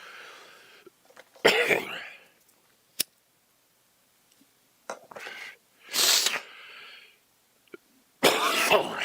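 Harsh bursts of coughing from someone smoking weed come in several separate fits with quiet gaps between them, close and loud, with no talking.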